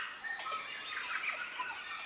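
A dense chorus of forest birds calling and chirping continuously, steady and fairly loud, with many overlapping high-pitched calls and no talking.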